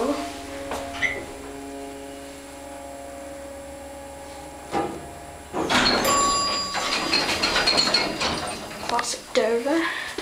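Sliding door of a Dover Oildraulic hydraulic elevator in a medical building, a steady hum giving way to a rumbling, rattling slide and clunk as the door moves, with a chime tone over the mechanism.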